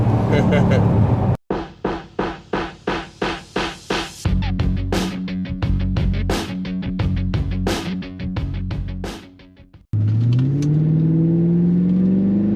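A two-valve Mercury fitted with a 10-speed automatic swap revs near and loud through rapid, rhythmic upshifts, its engine note pulsing between gear changes before briefly cutting out and then picking up again.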